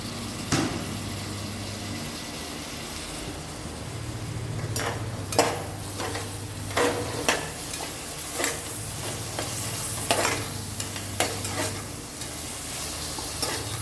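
Tomatoes fry in a pan for kada gravy, a continuous close sizzle broken by repeated sharp scrapes and taps of a stirring spoon at an uneven rhythm, with a low hum underneath.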